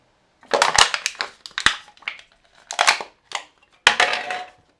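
Aluminium beer cans are crushed one after another in a series of loud, crunching bursts, each a sharp crumple of thin metal, with short gaps between them and no talking.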